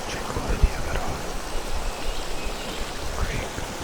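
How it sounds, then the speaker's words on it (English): Steady rushing water flows throughout, a creek's broad wash with a few brief knocks and faint voices in the background. "I just wanted to show you so that you hear the water sounds"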